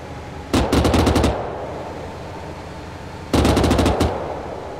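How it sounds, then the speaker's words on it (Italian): Cannon fire in the military game Arma 3 Antistasi, heard from a distance as two loud bursts of rapid repeated shots, each about a second long, separated by a steady rumbling vehicle-like drone. "Là, là il mio cannone che spara. Fa bordello anche da qui."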